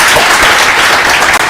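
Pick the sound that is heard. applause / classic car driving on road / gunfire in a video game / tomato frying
applause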